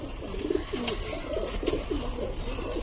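Pigeons coo steadily in a loft where feather-legged fancy pigeons are kept, the repeated soft rolling calls forming a continuous low burble at moderate distance with faint background noise.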